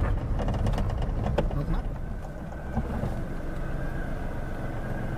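A car engine runs with a steady, loud low rumble on a night drive through the jungle, continuous for the whole stretch, with faint voices in the background.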